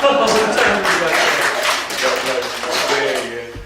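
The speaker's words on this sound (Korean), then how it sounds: "다 같이 부른 찬양에도 박수 치시죠" A church congregation claps at a Lent Sunday worship service, a dense, steady patter of many hands filling the space for a few seconds and fading at the end, with a voice speaking over it.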